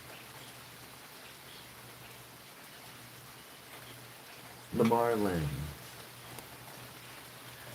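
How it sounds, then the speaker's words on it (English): Rain falling outdoors makes a steady, soft hiss throughout, and a voice briefly speaks over it partway through. "It is fucking raining in the background."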